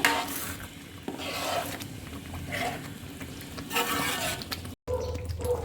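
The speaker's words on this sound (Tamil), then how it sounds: "நல்லா கிண்டி விடுங்க." Vegetarian nasi lemak sambal stirred in a pot after water is added, with repeated scraping and clinking of a utensil against the pan over a soft sizzle, a short dropout near the end.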